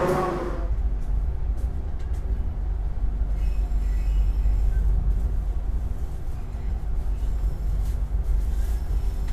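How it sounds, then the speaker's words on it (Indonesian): The Probowangi passenger train running between Banyuwangi and Surabaya gives a steady, continuous low rumble with a faint rattle throughout, as heard from on board. "Dan ini kereta api Probowangi ya teman-teman, kereta termurah dari Banyuwangi ke Surabaya"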